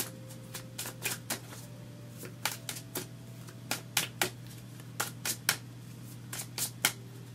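Tarot cards being shuffled up close: a string of crisp riffling snaps and flutters in irregular bursts over a quiet room hum, with no talking.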